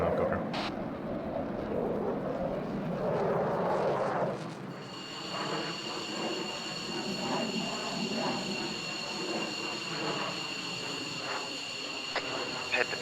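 A helicopter engine spooling down in the military game ARMA 3, a steady turbine whine with layered high tones that winds down beneath continuous radio chatter and talk.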